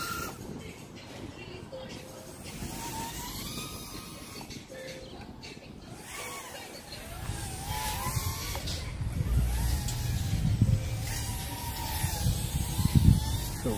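Small quadcopter drone with 1402 9500Kv brushless motors flying and punching out, a whining buzz rising and falling in pitch, growing louder toward the end, with someone talking over it.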